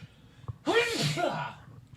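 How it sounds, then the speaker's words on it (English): One sharp, close sneeze bursts out after a quiet moment, followed by a brief breathy trail. "I gotta sneeze."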